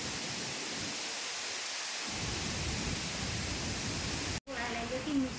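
Wind blows hard outdoors beside a cooking stove, a dense, steady roar buffeting the microphone almost without pause, with a brief dropout near the end.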